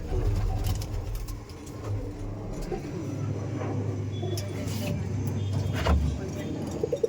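Madras and Giribaz pigeons cooing in a loft, low soft coos under steady conversation, with faint traffic noise in the background.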